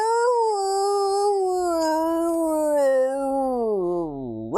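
A dog gives one long sustained howl that slowly drops in pitch and ends in a short whimpering rise, loud and close with no talk over it.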